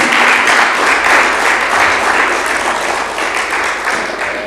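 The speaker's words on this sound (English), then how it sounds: "let's give her a round of applause" An audience at a national tourism debate breaks into sustained applause, a dense wash of clapping that stays loud and steady for the whole stretch with no voices over it.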